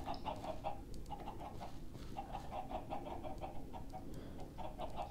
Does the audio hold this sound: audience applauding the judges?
no